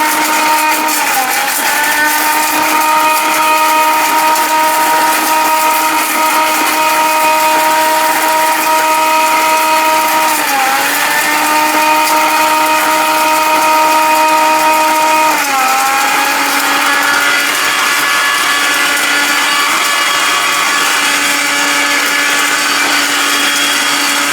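Electric blender from a multi-cooker kitchen appliance running steadily and loudly for the whole stretch, a sustained motor whine that dips in pitch briefly three times as the load shifts; no talking.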